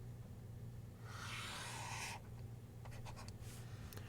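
Marker or chalk scratching across a board while working a physics collisions problem, a single near stroke of about a second, then a few faint taps, in a quiet room.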